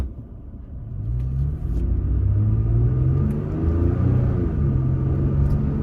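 A Toyota Tacoma pickup truck in Sport 9 mode accelerates with a loud, close engine rumble and rising drone, the revs climbing steadily over several seconds.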